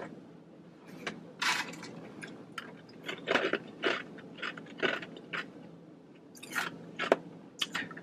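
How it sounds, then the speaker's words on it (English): Ice cubes chewed close to the mouth, a series of sharp irregular crunches and bites spaced a second or so apart over a quiet background. "As we chew our ice."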